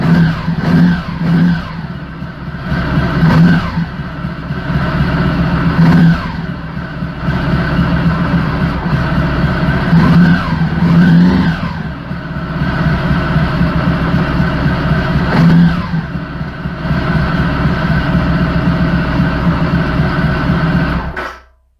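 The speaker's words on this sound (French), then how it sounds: "Je démarre la moto." Honda ST1100 Pan European motorcycle engine starting and running loudly up close, with repeated rising and falling revs over a steady drone before cutting out abruptly at the end.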